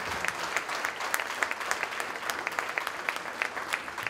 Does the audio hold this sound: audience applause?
yes